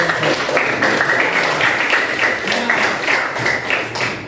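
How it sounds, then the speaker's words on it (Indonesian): A class of students claps in a rhythmic, patterned burst, with uneven taps and thumps repeating in short groups at close range for a few seconds, with some voices mixed in. "Beri tepuk tangan untuk"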